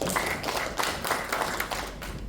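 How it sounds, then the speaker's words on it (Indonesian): Congregation at an Indonesian church service standing and clapping loudly, a dense, rhythmic patter of many hands with pulsing beats, close and sustained. "Bangkit berdiri, tepuk tangan yang keras."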